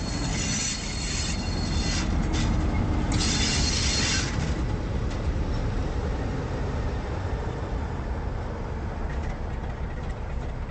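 An OO gauge model locomotive runs along a model railway layout at exchange sidings, giving a steady, continuous rumble and rail whine close by throughout, with no talk.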